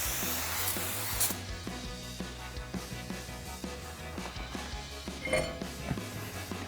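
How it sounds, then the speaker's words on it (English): Brake cleaner sprayed in short hissing bursts onto a Wilwood big brake rotor for a 2019-2025 RAM 1500, with a low steady hum and light clanks in the background. "So just take some brake clean, give it a good spray"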